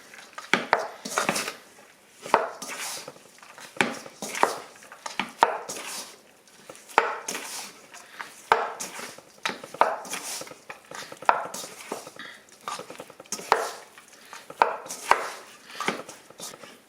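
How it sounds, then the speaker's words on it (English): Sticky bun dough is kneaded by hand on a surface, giving a steady series of close, dull thumps and slaps at roughly one-second intervals with quiet rustling between pushes. "I'm gonna knead this dough"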